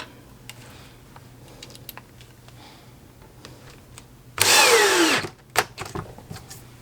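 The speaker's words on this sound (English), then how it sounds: "I'm going to pre-drill the rest of the holes" A power drill whirs loudly for under a second while pre-drilling holes for a jeweler's bench pin bracket, its pitch dropping as it winds down, amid quiet clicks and handling noises.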